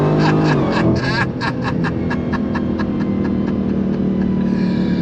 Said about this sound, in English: I need to go on throttle